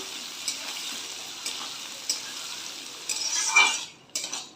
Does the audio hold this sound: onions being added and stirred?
yes